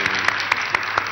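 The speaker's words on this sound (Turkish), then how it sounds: "Orkestramızı evet. Alkışlayalım." A live studio audience on a Turkish evening television show claps for the orchestra, a brief burst of evenly spaced, rhythmic claps heard close and alone.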